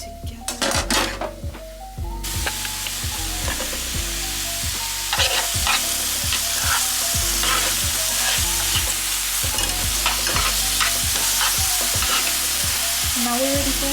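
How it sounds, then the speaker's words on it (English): Garlic and oil sauteing in a pan while being stirred, a steady close sizzle with repeated scraping and clinking of a utensil against the pan, continuous throughout. "Tiny bit more oil. More garlic. And saute all that together."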